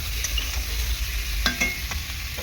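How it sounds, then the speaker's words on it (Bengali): Potatoes and capsicum stir-fried in spices for a rohu fish curry, giving a steady low sizzle with a few sharp scrapes of a spatula against the pan near the middle, with no talk. "ভালো করে আলু আর ক্যাপসিকামটাকে মশলার মধ্যে কষিয়ে নেব।"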